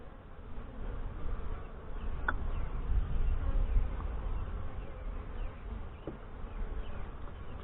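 Honey bees swarm around an open Saskatraz hive being inspected in Northwest Wisconsin, their dense, continuous buzz filling the air close by with a few sharper passes as individual bees fly near.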